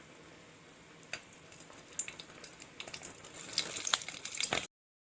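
Butter melting in a spoonful of oil in a cooking pot gives a quiet, close crackle of scattered pops that grows denser and louder before cutting off abruptly.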